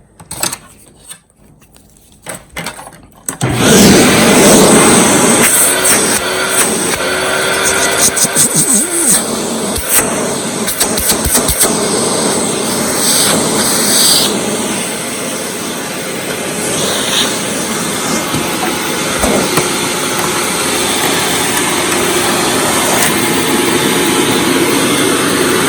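A Hoover WindTunnel Supreme U5468-900 upright vacuum cleaner runs with its hose in use, giving a loud, steady roaring whine that starts abruptly after a quiet moment and holds close for the rest of the clip.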